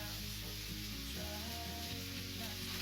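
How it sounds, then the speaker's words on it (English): A large handful of pre-washed spinach cooks in a pan for loaded scrambled eggs, giving a soft, even sizzle that stays quiet and steady throughout with no speech. "we simply just want to cook this until the spinach starts to wilt"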